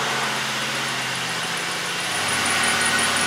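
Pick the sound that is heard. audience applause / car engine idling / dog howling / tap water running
car engine idling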